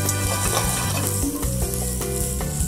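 Lemon sizzling in a hot pan in a home kitchen, a continuous crackling fry with light stirring and scraping, close and steady.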